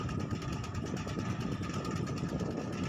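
A farm tractor engine chugs past along a rural roadside, a steady rough mechanical drone at moderate distance, fairly faint and unbroken, with no voices over it.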